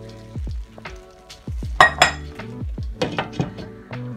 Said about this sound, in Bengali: আমার এই চিকেনগুলো এর সাথে অ্যাড করে দেবো